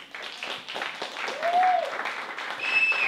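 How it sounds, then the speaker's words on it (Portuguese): Audience applause for panelists at a discussion on Black representation, clapping swelling in waves with a few voices and whoops rising over it, including a high whistle near the end. "eu gostaria que vocês dessem palmas para eles"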